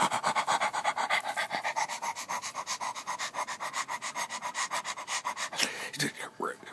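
Rex, an old mixed-breed mutt, panting rapidly and rhythmically close by, a steady run of quick breaths lasting throughout, with some rubbing and sniffing near the end.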